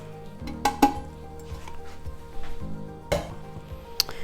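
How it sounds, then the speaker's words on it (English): Beans are dumped into a bowl, giving a few sharp clinks and clatters against the dish and a soft rustling tumble, close and moderately loud, with no talking. "So let's get our bowl. Dump our beans."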